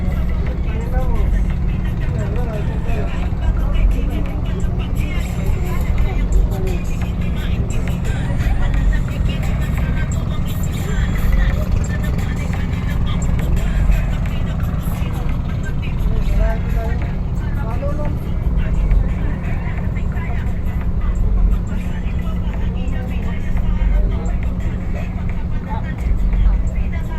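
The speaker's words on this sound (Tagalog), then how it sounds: "So talagang mabilis tong barko na sinasakyan natin." A fast passenger boat's engine drones steadily in Cebu, a loud low rumble that holds constant throughout while people talk nearby.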